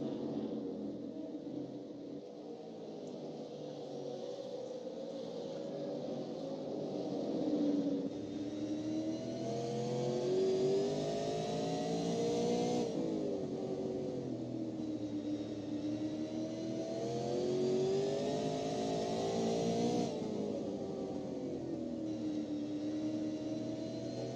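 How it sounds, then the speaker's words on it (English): An onboard race car engine from the iRacing sim at Southern National Motorsports Park drones steadily for the whole stretch, its pitch rising and falling through repeated shifts and corners, moderately loud and alone with no voices. "let's go on board with Weston Ward"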